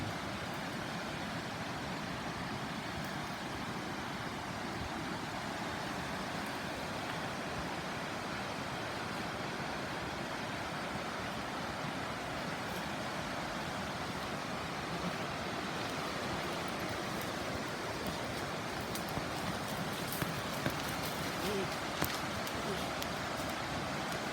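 A waterfall in the wild hills of Xaisomboun province, Laos, roars as a steady, dense wash of falling water that stays level and unbroken throughout, with no voices.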